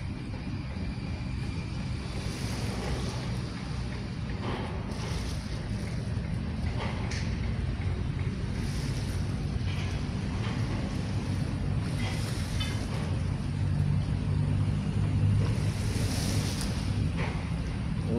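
Steady, continuous wash of sea waves on Manila Bay, mixed with constant wind rumble buffeting the microphone, holding at an even level throughout without voices.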